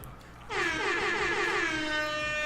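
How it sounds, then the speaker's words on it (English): A loud, sustained air horn blast bursts in after a quiet moment and holds its brassy, buzzing tone to the end. "So, air horns."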